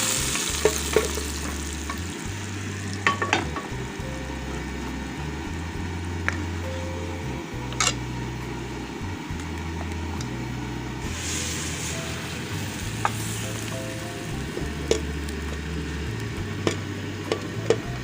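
Hot oil tarka sizzling steadily for lentil daal cooked village style, a continuous frying hiss with faint clinks throughout.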